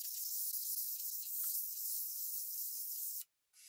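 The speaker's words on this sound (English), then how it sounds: "I'll lightly sand using 320 grit, just enough to remove any dust nibs" Light hand sanding across a table's finish with 320-grit paper makes a steady, soft, airy hiss that runs evenly for about three seconds and then stops abruptly.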